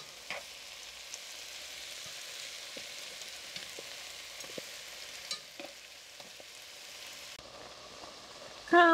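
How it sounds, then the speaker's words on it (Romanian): Thawing spinach sizzles in a pan with mushrooms and onions, a soft steady frying hiss broken by occasional stirring clicks, with a sharper scrape at the very end. "Și acum amestecăm totul și lăsăm uh, spanacul să se decongeleze și să se gătească împreună cu ciupercile și ceapa."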